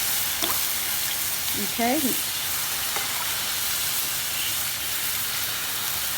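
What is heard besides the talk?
rava dosa batter sizzling on hot pan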